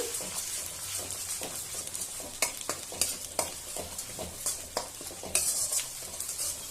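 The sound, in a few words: ginger garlic paste frying in a pan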